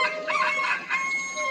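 A cartoon hen calls her chick with a series of bright, squawking clucks, close and continuous over a second or so, with no talking.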